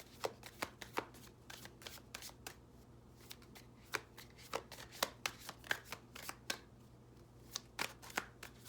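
A deck of Sacred Traveler oracle cards being shuffled by hand, a steady run of crisp riffling snaps and slaps close up, with no talking.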